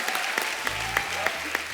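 On a Kapil Sharma comedy show stage, a studio audience claps to welcome the Indian women's cricket team; sharp claps come in a loose rhythm at moderate volume beneath a low hum.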